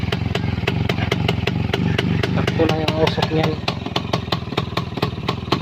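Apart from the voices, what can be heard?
two-stroke Kawasaki HD3 motorcycle engine running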